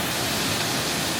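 Paddy's Falls waterfall rushing up close, a dense, steady roar of falling water filling the sound with constant broadband hiss and no breaks.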